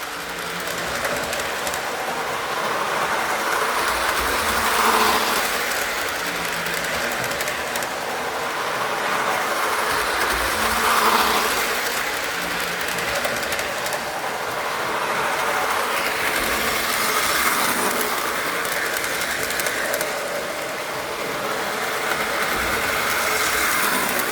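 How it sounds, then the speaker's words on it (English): A gold model B&O Chessie System locomotive pulls new cars around a track, making a continuous loud whirring motor hum and rolling rattle with gentle rises and falls as it passes close by. "Get the B&O engine running now."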